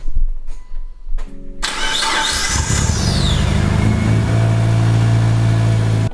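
A Mitsubishi Evo 7 engine cranks briefly after some clicks, then catches and settles into a steady, loud idle that continues to the end.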